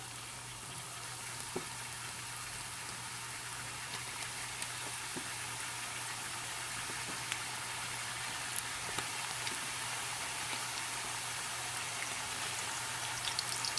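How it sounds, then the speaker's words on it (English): Tortillas frying in a little oil in a pan, a faint, even crackling sizzle with scattered small pops that holds steady throughout, no speech. "start putting some of those tortillas in there, and what it's going to do is just going to fry them up"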